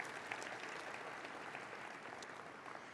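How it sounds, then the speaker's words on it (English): An audience applauds at a university system symposium, a steady, fairly faint patter of clapping throughout with no voices over it. "let's have a round of applause for her"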